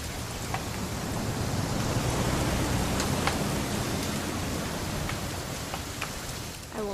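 Rain falls steadily in the video game What Remains of Edith Finch, a soft even hiss with a few faint taps and no voices over it.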